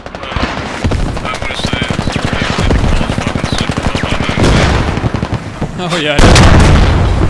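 Dense, loud gunfire from the video game Squad, rapid machine-gun bursts with heavier booms and a closing explosion, with someone briefly talking over the fighting.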